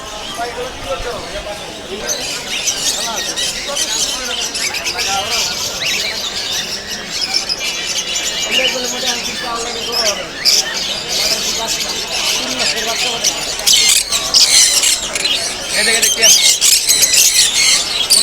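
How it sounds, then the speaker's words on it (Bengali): Dense, shrill parrot calls and squawks fill the air nonstop at the Mirpur 1 bird market in Dhaka, with crowd chatter and market bustle mixed in throughout. "দুই ধরনের কালারের ঘুঘু পাখি জোড়া জোড়া ভাই টিয়া পাখি দেখেন কত সুন্দর"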